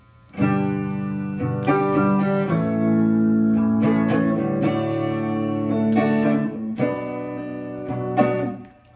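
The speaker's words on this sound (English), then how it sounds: "if we wanted to strum along to that intro part on the guitar" Strummed chords on a guitar ring out steadily, changing chord every second or so, with no voices.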